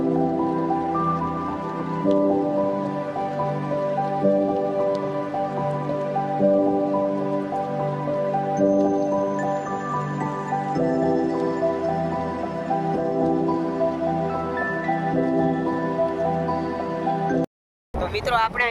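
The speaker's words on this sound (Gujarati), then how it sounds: "અહીંયા પાછો વરસાદ ચાલુ થઈ ગયો છે." Rain falling beside a village river after heavy rain, a continuous soft patter and hiss of drops holding steady throughout, with a voice speaking over it before a brief cut near the end.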